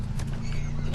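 Horse hooves clip-clopping in a video game, a quick continuous patter of footfalls over a dense low engine-like rumble, loud and close throughout the short burst.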